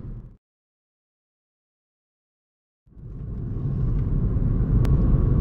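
A car on a narrow road passes very close to an oncoming car. After a moment of silence, a low, rumbling engine and road noise rise and build steadily, loud and near.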